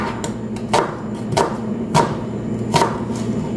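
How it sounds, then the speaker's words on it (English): A kitchen chopper cuts tomatoes for chicken curry in a series of sharp, evenly spaced chops, about five distinct knocks close to the microphone, with no talking. "of course we will use our chopper. Okay guys, we will chop"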